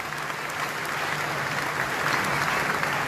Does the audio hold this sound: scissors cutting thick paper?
no